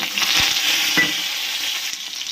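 Nigella seeds, dried chillies and bay leaf hit hot oil with a loud, steady sizzle, with a few spoon clinks and scrapes on top, close and continuous throughout.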